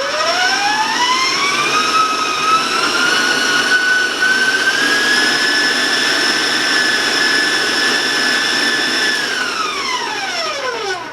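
Electric mixer running steadily at high speed while creaming caramel cookie dough, a loud continuous whine rising in pitch as it speeds up, holding, then winding down at the end; no talking.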